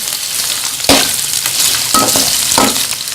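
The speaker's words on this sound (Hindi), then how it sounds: "आलू फ्राई करने के लिए हमें थोड़ा सा ज़्यादा घी चाहिए" Potatoes fry in ghee in a hot pan, a steady loud sizzle broken by a few sharper stirring scrapes and clinks, with no talking.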